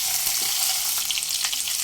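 Onions frying with ginger-garlic paste for an egg korma, a steady close hiss and crackle of hot oil with a few brighter pops, no voices.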